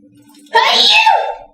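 A single quick sneeze indoors, sharp and close, bursting out between stretches of conversation during a consulting session.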